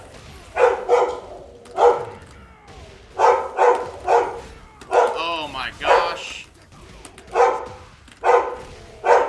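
Dog barking in short repeated bursts with whimpery, yipping tones, mixed in among clear talk.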